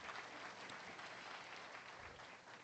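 Steady clapping from an audience at a junior market hog show, honoring barrows from the class, a dense continuous wash of applause lasting throughout at even loudness.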